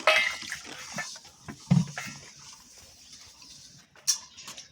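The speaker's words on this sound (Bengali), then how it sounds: "জল দিয়ে ধুয়ে দিয়ে দিলাম।" Water is splashed and swirled in a bowl to rinse ingredients for Bengali bori posto, with a few close, uneven patters and sloshes separated by quiet gaps.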